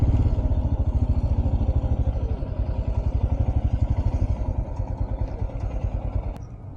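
Royal Enfield and other motorcycles are gathered for a Republic Day group ride; a close engine idles with a steady, rapid low thump that fades slightly at the end.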